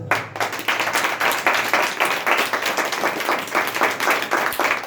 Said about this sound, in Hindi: यीशु के लिए जोरदार ताली बजाएं।